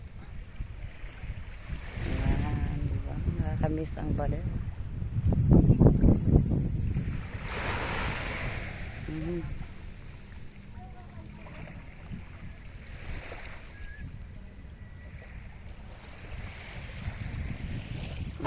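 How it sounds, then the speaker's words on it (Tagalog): Sea waves wash onto a beach at Baler with wind buffeting the microphone, a broad rushing surge swelling and fading, while people talk close by. "Kay ganda ng pakiramdam ng tunog ng dagat."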